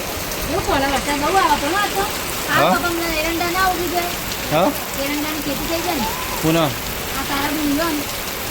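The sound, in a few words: rain falling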